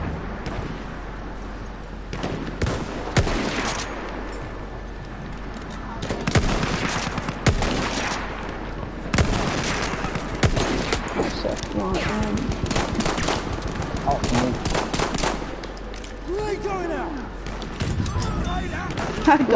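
Automatic weapons fire from a Battlefield 1 multiplayer match, with rapid bursts and scattered shots running throughout at moderate loudness, often under a player's talk.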